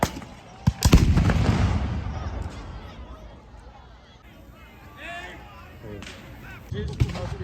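Black-powder musket volley at a Civil War reenactment battle in Saint Cloud, Florida: a sharp loud crack of gunfire followed by a rolling echo and distant pops, with people talking afterward.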